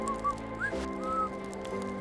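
A person whistles short rising and sliding tones, imitating a Bigfoot whistle outdoors during a Sasquatch search, several brief notes over a steady low hum, fairly near.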